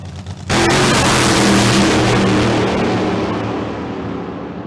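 A drag racing car making a qualifying run at the Southern Nationals: a sudden, thunderous roar bursts in close and loud, holds for a few seconds, then slowly fades.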